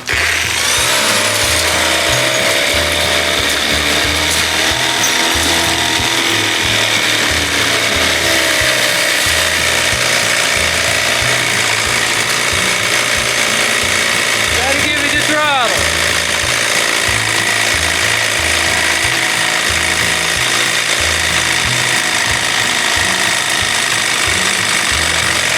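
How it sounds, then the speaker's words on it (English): A power drill runs continuously and loudly, turning over a 1975 Johnson 4 hp outboard motor, with a steady grinding drone and a voice talking over it. "One more time with the drill."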